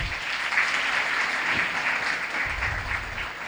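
A hall audience at a school book launch breaks into steady, dense applause, a continuous wash of many hands clapping at even loudness throughout.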